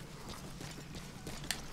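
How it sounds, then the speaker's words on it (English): The D-Horse in Metal Gear Solid 5: The Phantom Pain, its hooves clip-clopping in a steady walking rhythm at close range, with a low background hum throughout and a sharp click near the end. "It's your D-horse, bro."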